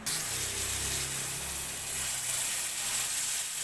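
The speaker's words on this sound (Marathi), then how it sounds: "मसाला अजून आता थोडा आणि भाजून घेते" Masala for chicken rassa fries in a pan with a steady, close hiss and sizzle that holds evenly throughout, with no voices over it.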